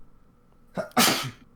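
A single sharp, close sneeze, preceded by a brief intake of breath, heard on its own.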